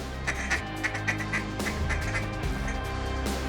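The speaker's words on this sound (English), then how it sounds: "The ducks you're looking at are moving from refuge to refuge." Several ducks quack in a repeated, irregular run over a steady low background during a duck hunt with Higdon decoys on a marsh.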